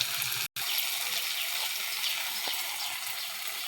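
Water pours into a curry pan in a continuous, fairly loud gushing stream, broken by a brief gap near the start, with no voices.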